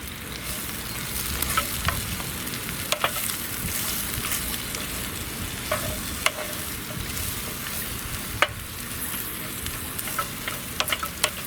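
Chicken, bacon, mushroom and pepper sizzle in a pan over an outdoor twig stove, a continuous frying hiss broken by occasional sharp clicks and scrapes of stirring.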